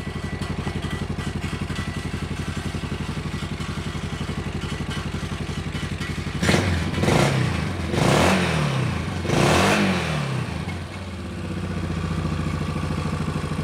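A Yamaha Big Bear ATV engine idles with a steady rattling putter, then revs sharply three times in quick bursts before settling back to idle.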